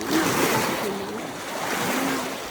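Choppy sea waves churn near a boat rental spot at a Yamanashi camp, a continuous washing rush with wind noise, and voices talk faintly over the water.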